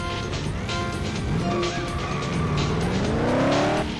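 Racing car engines in the video game Ford Racing 2 rev and whine through gear changes with squealing tires, loud and sustained, with rising engine tones over game background noise and no talking.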